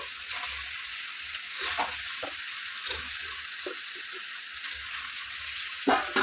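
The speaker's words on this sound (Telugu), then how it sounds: "కొంచెం వేగిన తర్వాత ఇప్పుడు చేపలు వేసుకుందామండి" Fish pieces, each fish cut in two, drop into a hot pan for a mango and brinjal fish curry, giving a soft ongoing sizzle with a few sharp splashes and clinks of a utensil, ending in a louder clatter.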